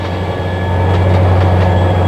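A train pulls in within the Trainz railway simulator, a loud, steady low rumble of engine and rolling wheels that swells slightly as it approaches.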